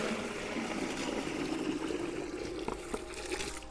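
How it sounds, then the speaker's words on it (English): Seawater and mud pour from one bucket into another in a steady, fairly faint sloshing stream lasting a few seconds, with a small splash at the end. "I'm gonna take the bucket and I'm gonna dump it into this one."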